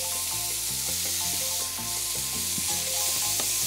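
Enoki mushrooms fry in oil in a pan for japchae made with ordinary glass noodles, giving a loud continuous sizzle with faint stirring scrapes close by and no talking.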